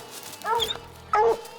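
A young hunting dog at a raccoon den tree gives two short, close, high-pitched yelping barks with a whining edge, separated by a brief pause.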